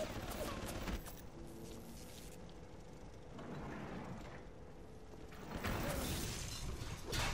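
A turret explodes in the video game Bioshock, a burst of sharp crashing blasts followed by quieter debris and mechanical rattling, then another loud surge of crackling noise.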